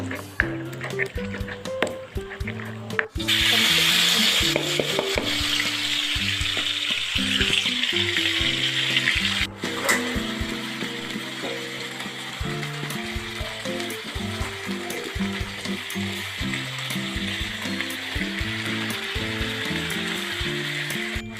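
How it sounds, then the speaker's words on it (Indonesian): Chili sambal sizzles and crackles loudly in a hot pan, with a burst of intense frying after a few seconds and steady sizzling with clinks continuing. "Setelah itu kita goreng sambalnya."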